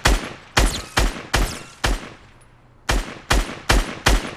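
Gunfire in Fortnite, loud close shots in a steady cadence of about nine sharp reports, roughly half a second apart, with a brief gap in the middle before the firing resumes.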